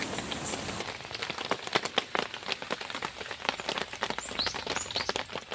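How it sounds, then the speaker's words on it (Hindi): Rain drums on a field shelter overhead, a dense patter of drops striking the roof with irregular sharper ticks, close and steady throughout. "आप बारिश की आवाज़ सुन सकते हैं,"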